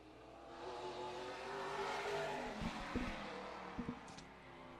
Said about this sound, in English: On the track now, looks like the number 34 of Kevin Ferdin